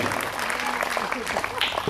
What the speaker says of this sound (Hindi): आप भी ताली बजाएंगे स्वागत में